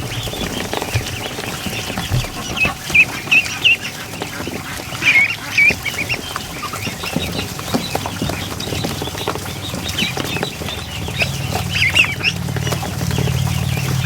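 Ducklings peep in a barn, with bursts of chirping over a busy, rustling background and occasional honking calls, fairly close and continuous.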